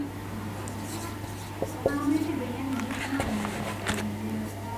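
Marker or chalk writing notes on a board during a biology lecture, quiet irregular squeaks and strokes heard under a teacher's speaking voice.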